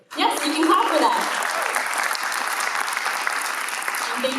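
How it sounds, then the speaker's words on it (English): Dense, sustained applause fills a hall at a Canadian Muslim town hall with a federal party leader. It starts abruptly with a few cheers and holds steady, loud and continuous, with voices mixed in early. "Yes, you can clap for that"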